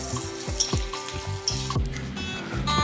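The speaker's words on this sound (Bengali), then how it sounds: "আলুটা আমি তেলে ভেজে নিচ্ছি" Potato pieces frying in oil with turmeric and salt, a continuous close sizzle with scattered scraping thumps of stirring.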